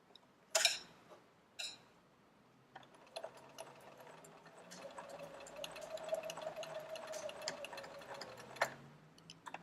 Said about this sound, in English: we're going to sew from the outside edge down to where we started sewing the last time